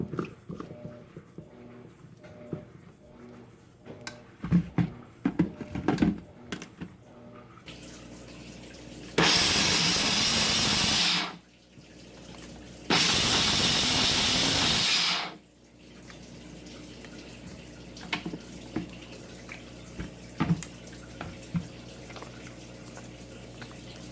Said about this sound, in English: my ingredients are all in my blender cup and I'm going to go ahead and blend that up